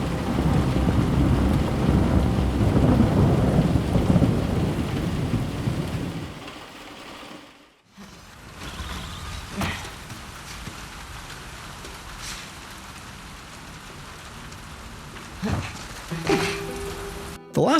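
Heavy rain and rolling thunder from the game The Last of Us Part 2, a loud dense downpour for the first six seconds, then a brief hush before steadier, quieter rainfall with scattered distant rumbles and drips.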